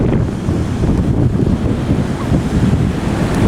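Ocean surf at Parangtritis beach rolls in as a continuous deep roar, with wind buffeting the microphone and no voices over it.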